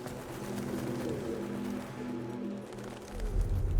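Pigeon cooing in The Last of Us Part 2, low soft repeated coos sitting under a background of game ambience at moderate loudness, with no talk over it.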